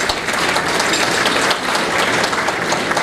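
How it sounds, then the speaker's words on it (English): Health professionals at a medical gala give a dense, even round of applause, many hands clapping together without a break. "please give yourself a round of applause for taking that on."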